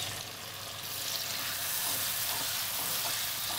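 Ginger and garlic paste frying in mustard oil, a loud, steady, hissing sizzle heard up close, building slightly and holding evenly with light stirring beneath.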